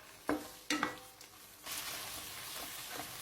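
Thin pork neck slices stir-fried in a hot pan for a red curry paste stir-fry: a couple of sharp clanks of spatula on the pan, then a steady sizzle that carries on without talk.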